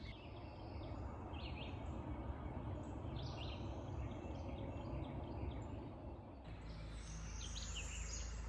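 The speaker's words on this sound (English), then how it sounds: "This is cardinal, northern parula calling here." Northern cardinal and northern parula calling outdoors during spring migration in North Carolina, faint repeated chirps and buzzy phrases over a dense, steady natural background with no voices.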